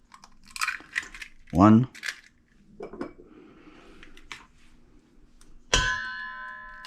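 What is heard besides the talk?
cracking two eggs into a bowl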